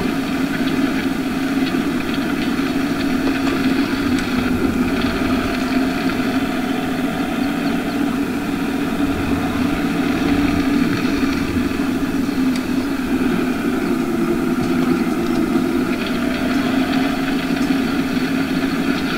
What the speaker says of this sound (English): I'm starting to get some hours on this tractor